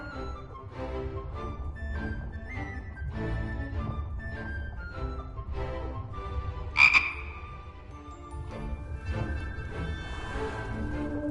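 A frog croaking in a PlayStation 4 game, steady low repeated croaks running throughout over a layered game soundtrack, with a brief brighter burst partway through.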